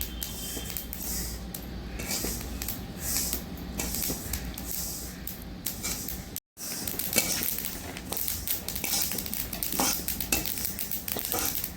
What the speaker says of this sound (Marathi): तडतडाचा आवाज येऊ लागला आहे तर अशा प्रकारे तीळ भाजून घ्यायचे आहेत